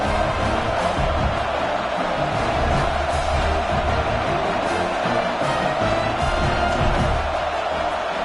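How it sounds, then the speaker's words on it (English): Stadium crowd buzzing in a college football video game between Florida State and Clemson after a score, a continuous, dense roar of many voices with faint whoops, steady and loud throughout. "this crowd is buzzing after that last score"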